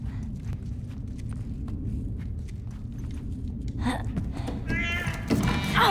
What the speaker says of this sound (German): Scheiß Katze.